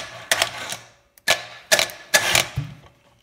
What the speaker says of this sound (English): you can hear that click. That's fuel shut off.